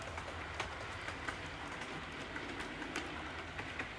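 Model railway trains running around a home layout with a harbour scene, a steady rolling rumble and faint clicking carrying on continuously throughout at moderate level, with birds chirping faintly in the background.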